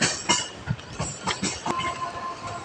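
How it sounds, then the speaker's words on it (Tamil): A passenger train heading to CST station rolls past close by, its wheels clattering over the rail joints in a steady rhythm of clicks and thumps, with a brief high squeal near the end. "இது நான் போகிறதுக்கு முன்ன உள்ள ட்ரெயின். இது சிஎஸ்டி போகுது."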